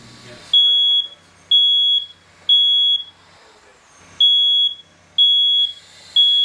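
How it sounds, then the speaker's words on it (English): A smoke alarm sounds loud, repeated piercing beeps, six long tones in a steady on-off rhythm with short gaps, with a brief pause in the middle. "Your smoke detector is your first line of defense. When you hear it, you need to get out and stay out."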